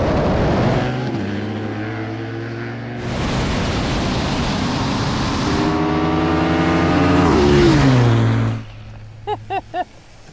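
KTM and BMW heavyweight adventure motorcycles accelerate hard in a wet drag race, engines rising through several gear changes in a loud, close roar of rising pitch before cutting off, with brief voices at the end.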